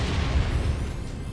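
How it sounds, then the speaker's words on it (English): An incoming missile explodes in MechWarrior 5: Mercenaries, a loud, booming blast with heavy low-end rumble that rolls on steadily, easing slightly toward the end, with no voices. "Incoming missile."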